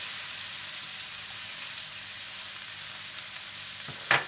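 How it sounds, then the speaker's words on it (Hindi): Chopped onions sizzle in hot butter in a pan for burger sauce, a steady close frying hiss with a brief louder crackle and clink near the end, no talk. "जैसे ही मक्खन गर्म हो जाए तो आप इसमें प्याज डाल दें"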